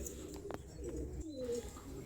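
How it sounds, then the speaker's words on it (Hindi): A pigeon coos softly at a pigeon farm, low throaty notes rising and falling, with a faint click and background murmur around it. "छोटा सा कबूतर जिसकी गुटुर गुटुर आवाज़ हर घर में सुनाई देती है"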